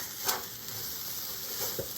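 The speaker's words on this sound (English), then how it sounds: "ooh, that sizzle" Steady crackling sizzle of food frying in a pan, with a couple of brief louder spatters; no voices.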